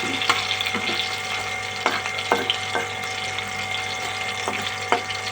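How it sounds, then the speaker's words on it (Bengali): Fish frying in hot oil in a home kitchen pan, a steady crackling sizzle broken by a few sharp spatter pops and light scrapes, close and alone with no talking. "এই যে মাছটা ভাজা হয়ে গেছে, অনেক বেশি ভাজা হয়ে গেছে"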